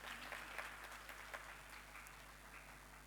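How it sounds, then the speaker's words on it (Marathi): Faint, distant clapping from an audience at an awards ceremony, a thin, continuous patter of hands with occasional sharper claps over a steady low electrical hum. "एकदा जोरदार टाळ्यांचा कडकडाट होऊन जाऊ देत"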